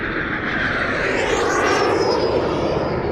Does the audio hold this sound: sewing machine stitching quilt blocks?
no